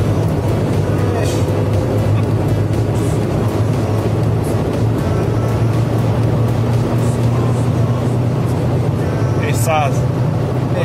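A Wartburg 1.3 car engine drones from inside the cabin while driving at speed. A constant low rumble with road noise runs throughout, and a voice speaks over it.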